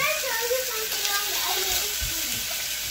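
Chicken pieces for a curry sizzle and crackle in a hot pot, a steady close hiss of frying with faint stirring and a few soft knocks under it.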